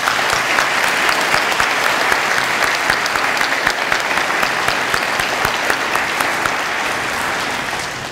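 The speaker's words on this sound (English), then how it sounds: "thanking all the donors for everything that they have done for these students with a round of applause" A crowd at an annual scholarship awards ceremony claps loudly for donors, a thick, even wash of applause that continues for about eight seconds before beginning to taper off.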